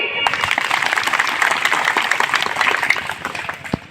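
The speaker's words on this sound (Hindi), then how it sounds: "बजाओ ताली" Dense crowd clapping and cheering at a large outdoor rally, loud and sustained for several seconds, with voices mixed into the applause.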